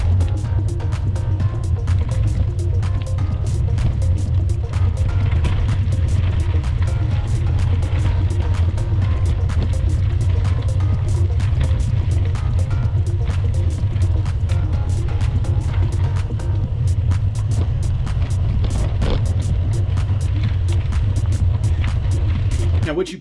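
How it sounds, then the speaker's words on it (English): A bike rumbles and vibrates continuously over the ground, picked up by a GoPro Hero 9 on the handlebar mount. The low, throbbing vibration stays loud and steady throughout, with no talking. "where you hear that vibrating noise, that's the bike vibrating over some of the,"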